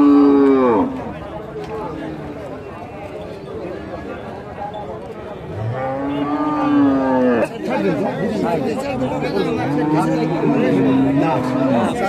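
Cows at a cattle market for Holstein Friesian and Jersey dairy cows give loud, drawn-out moos, one near the start and more later, while people talk and chatter throughout.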